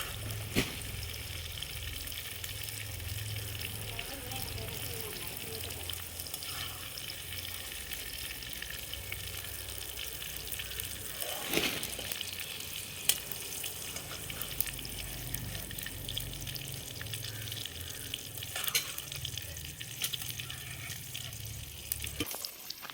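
Clams (kakka) frying in hot oil in a home kitchen, a continuous close sizzle and crackle lasting over twenty seconds, with occasional stirring scrapes and small louder spits, no voices.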